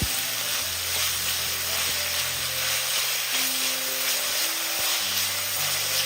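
Vegetables sizzling steadily in a pan with no oil while being stirred, a constant close hiss with faint scraping and tonal hum underneath, no talking.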